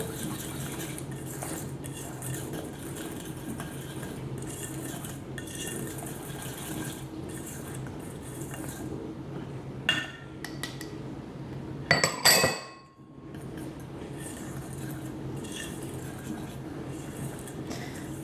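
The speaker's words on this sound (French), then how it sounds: "je mélange au fur et à mesure pour éviter les grumeaux" Steady clinking and scraping of a whisk against a bowl while mixing gluten-free batter with baking soda, a continuous close rhythmic stirring with a few sharper knocks near the end.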